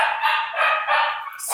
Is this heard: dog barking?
yes